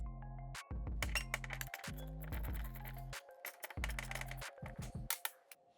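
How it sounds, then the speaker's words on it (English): A ratcheting wrench clicks in short, loud bursts as it undoes the 8mm bolt holding the distributor rotor button on a Y60 Nissan Patrol, with sharp metallic clinks between pauses. "you need to undo this 8mm bolt here that holds on the rotor button"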